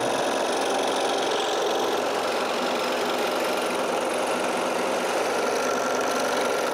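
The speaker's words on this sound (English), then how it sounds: "I use the scroll saw." A scroll saw cuts wooden intarsia pieces for a medicine cabinet door, a fast, steady reciprocating buzz with a close, continuous rattling whine and no talking.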